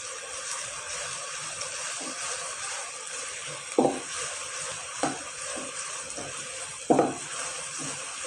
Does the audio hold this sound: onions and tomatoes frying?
yes